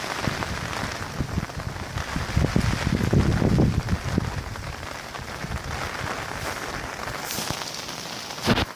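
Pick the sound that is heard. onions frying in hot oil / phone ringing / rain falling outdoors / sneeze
rain falling outdoors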